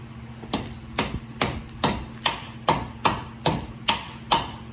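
Sharp metallic taps ring out in a steady rhythm, about nine evenly spaced strikes on the end of a car's front CV axle shaft, close and clear.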